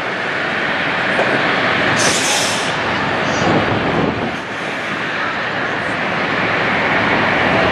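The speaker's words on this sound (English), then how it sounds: "it's a WestJet coming from Calgary into Toronto" A WestJet jet arriving from Calgary lands at Toronto Pearson, producing a loud, continuous broadband roar that holds steady for several seconds with no voices.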